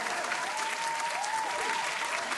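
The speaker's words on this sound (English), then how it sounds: "Where's my hand claps?" Steady applause and hand claps fill a sports talk show studio, a dense continuous patter of many hands throughout, with a faint tonal sound drifting above.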